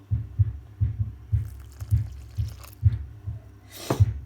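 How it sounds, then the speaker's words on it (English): Muffled, heavy thumps of footsteps upstairs repeat in an uneven rhythm, dull and low, with a brief brighter rustle near the end. "So there's quite a bit of thumping and lumping upstairs."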